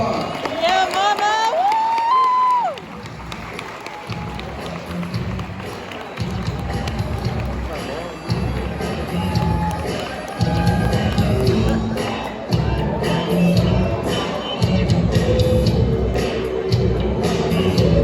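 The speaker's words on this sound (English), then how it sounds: "please help me welcome Ms. Erika Gonzalez with a big round of applause" Audience applause and cheering for a keynote speaker at a high school event, a loud continuous crowd roar with whoops and a rising shout, sustained throughout with voices mixed in.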